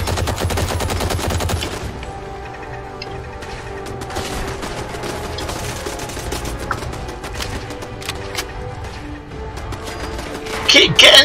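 Turrets fire sustained bursts of gunfire in the Fallout 4 video game, dense rapid shots running throughout with a louder burst near the end, no talk over it.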